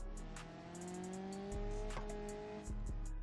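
Video-game car driving itself along a recorded path in a world editor, engine tones holding and shifting steadily, with a couple of low thumps and a brief tire squeal.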